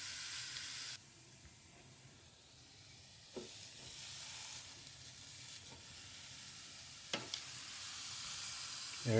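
Pork shoulder blade steak goes into an air fryer preheated to 400 degrees, setting off a steady, moderate sizzling hiss with a few brief clicks and clunks along the way, and no voices.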